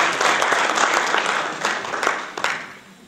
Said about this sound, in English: I would like you now to all give all of the candidates a nice applause